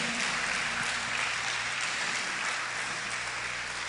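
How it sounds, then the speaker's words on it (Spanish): Dense church congregation applause in a Spanish-language service, a continuous wash of clapping that stays even and moderately loud for the whole short span. "Denle un fuerte aplauso al Señor."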